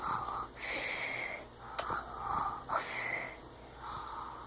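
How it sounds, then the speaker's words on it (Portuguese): Person pretending to snore, giving rhythmic breathy wheezing snorts that repeat about every second, close and fairly quiet, with no talking. "Olha, ele ronca."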